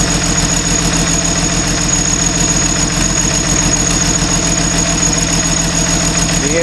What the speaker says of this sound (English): The engine is getting up to temperature.